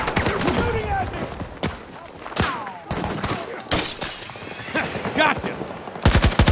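Rapid machine-gun bursts and single gunshots crack through a Battlefield 2042 team deathmatch with 48 players, loud and close, with a dense stuttering volley at the end and a voice shouting between the shots.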